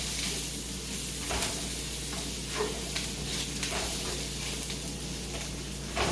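Bacon, onion and fresh garlic fry in a pan on the stove, giving a steady close sizzle with occasional stirring scrapes over about six seconds, and no voices.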